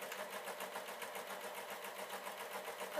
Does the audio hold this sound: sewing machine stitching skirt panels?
yes